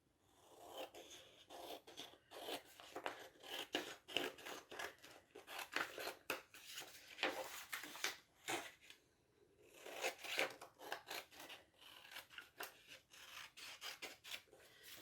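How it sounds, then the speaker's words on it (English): Scissors trim paper while upcycling a thrifted frame, giving a quiet, steady run of close snipping and rubbing strokes with a brief pause midway. "And then I'm just going to trim it with scissors."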